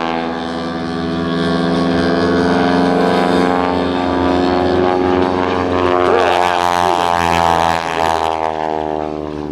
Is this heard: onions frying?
no